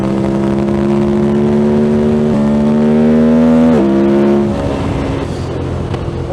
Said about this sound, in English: Can't hear anything apart from the airbox.